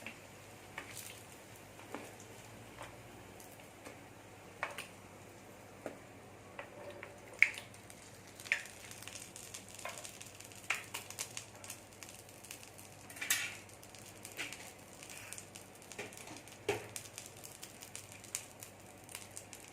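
Potato kofta balls fry in oil over medium heat, giving a soft, steady sizzle with scattered crackles and pops. No one talks over it.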